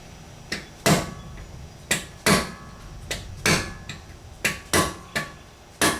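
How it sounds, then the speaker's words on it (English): A rubber mallet strikes a 2006 Honda Accord rear brake part about a dozen times at an uneven pace, each blow a sharp, close thud with a short ring, and the gaps between are quiet. "Take my rubber mallet hammer."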